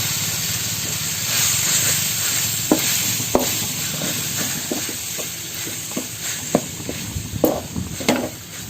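Cooked rice is stirred into pulao masala in a pan: a steady sizzle runs throughout while a spoon scrapes and clicks against the pan in irregular, close strokes.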